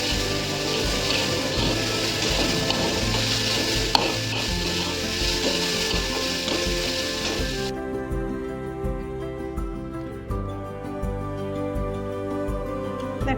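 Sweet corn sizzling and frying in a pan for masala corn chaat, a steady close crackle with occasional stirring scrapes, no talk.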